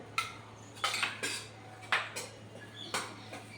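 A metal ladle clinks and scrapes in a pan as ghee is added and flour is roasted for Sindhi khorak, producing about six sharp, uneven knocks over a low steady hum.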